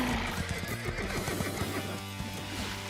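Cartoon horses whinny and neigh loudly and close, with hoof clip-clops mixed underneath in a brief lively burst.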